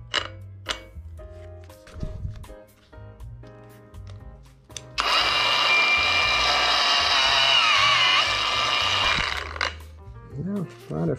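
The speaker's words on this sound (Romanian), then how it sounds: "asta ar fi flexul de Walt luat azi din piață" A DeWalt cordless angle grinder bought at a flea market spins up and runs loud and steady for several seconds before winding down, with clattering handling noises and someone talking before and after.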